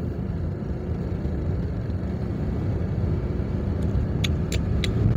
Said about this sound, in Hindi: ये गाड़ी डाली हमने टॉप गियर में और ये चले।